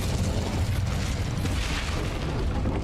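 An Incendio-like fire spell in Hogwarts Legacy lets off a loud, continuous roaring blast, a dense booming burst that fills the whole moment without a break.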